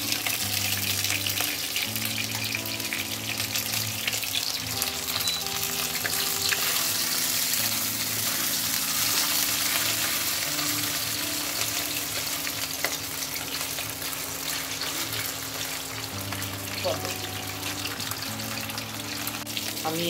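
Breaded chicken cutlets frying in oil over a medium flame, a steady dense sizzle that runs for about twenty seconds, close and fairly loud, with faint clinks now and then and no speech.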